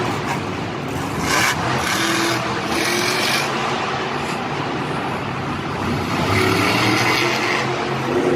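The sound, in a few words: monster truck engine revving in a stadium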